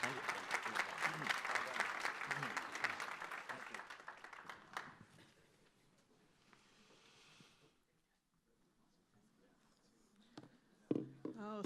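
An audience at the Credential Engine launch event claps for a panel, the full applause lasting about five seconds before thinning to scattered claps and quiet room sounds, with voices talking over it.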